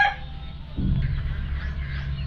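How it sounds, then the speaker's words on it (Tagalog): Free-range hen with chicks outdoors, giving low, throaty clucks that rumble close and fairly loud after a brief higher call at the start. "Ito nga pala yung inahin, yung mga ating pasisiw."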